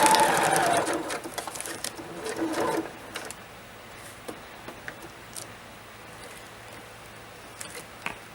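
A sewing machine stitches through vinyl in a short burst of rapid mechanical whirring up close, then falls quiet apart from scattered faint clicks and taps.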